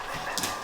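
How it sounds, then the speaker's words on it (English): Dogs whimper and yip briefly while playing indoors, a short soft cry close by over steady background noise. "Play with the dogs."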